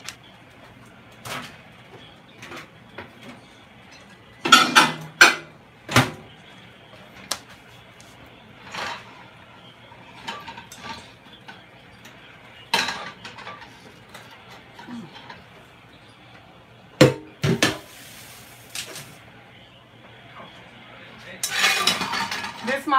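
Pots and pans clatter and cutlery clinks in a home kitchen as a fish frying pan and fry pot are set out for frying fish, with several sharp metallic bangs and scrapes over a low steady hum.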